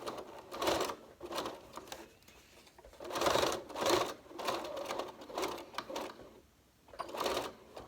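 A sewing machine stitches down the binding on a fabric envelope mask in short bursts of rapid mechanical clatter, stopping and starting with brief pauses between runs, fairly quiet and close.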